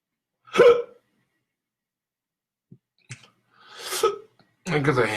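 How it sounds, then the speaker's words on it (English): Several loud, abrupt hiccups from a man at home, spaced irregularly with long silences between them, the last ones running into a burst of voiced noise. "Look at the hiccups."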